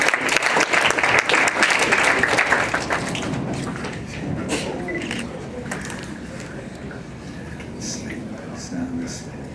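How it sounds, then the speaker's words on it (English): Audience applause at a high school grad night hypnosis show, a dense burst of clapping that is loudest at first, then thins out and fades into scattered claps and room noise. "Give him a round of applause too."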